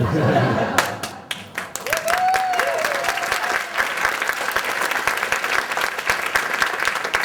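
A crowd at an arts awards ceremony breaks into loud applause after a voice trails off, dense clapping mixed with a little laughter that carries on to the end.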